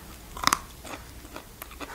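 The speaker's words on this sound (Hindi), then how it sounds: "इस तरह चबाकर आप खा सकते हैं।" Someone bites into a fresh, soft giloy (Tinospora cordifolia) twig with one sharp crunch, then chews with fainter crackly crunches at an uneven pace, close up, with no talking.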